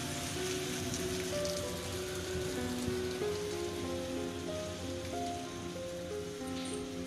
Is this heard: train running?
no